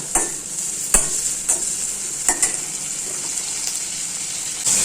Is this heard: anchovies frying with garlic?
yes